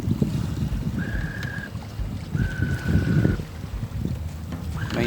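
Stern wind blowing across a sailboat at sea, a steady rough rush of air buffeting the microphone with low boat and water rumble beneath and two brief thin whistling tones, close and continuous with no talking.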